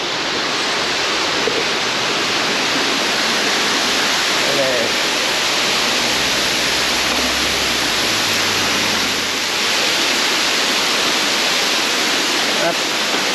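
A waterfall in the Bois de Boulogne roars steadily as a broad, constant rush of water, loud and near throughout. A voice speaks faintly over it.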